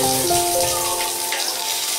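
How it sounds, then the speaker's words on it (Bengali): Chopped onion dropped into hot oil fries with a steady, hissing sizzle, near and fairly loud, continuous across the short stretch with no talk over it. "দিয়ে দিচ্ছি কুচনো পেঁয়াজটা তেলের মধ্যে।"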